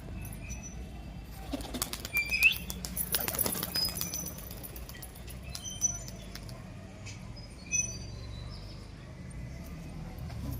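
Several pigeons take off together, with bursts of wing flapping and clatter early on and again near the middle, over a low steady background.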